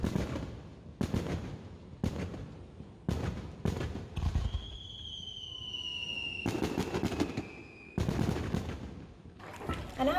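Fireworks display at Kinosaki Onsen, Japan, a series of loud booming bursts with crackling between them and a few whistling rockets rising, heard from a distance over faint crowd murmur.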